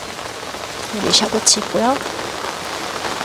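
Steady autumn rain patters over a garden of flowers, a soft continuous hiss throughout, with a person speaking briefly over it midway.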